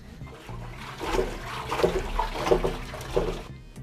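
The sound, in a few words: water rinsing rust out of a gas tank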